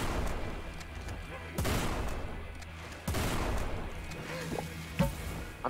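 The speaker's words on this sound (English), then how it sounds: "Grenade launcher is extremely useful." Grenade launcher in the shooter game Forgive Me Father firing a few heavy booming blasts at irregular intervals, each a broad burst that swells and decays, over a steady background of game noise.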